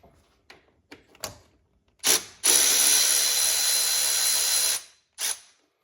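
A ratchet works 10 millimeter bolts loose on a 1996–2002 Toyota 3.4L engine: a few short clicks, then a long loud rapid whirring burst, and one more short burst at the end.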